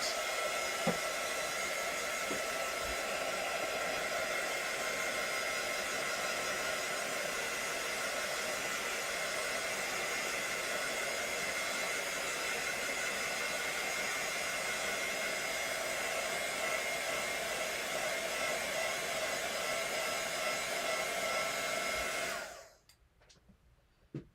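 Heat gun blows hot air over a small craft project in one steady, fairly quiet whooshing roar lasting about twenty seconds before switching off abruptly near the end.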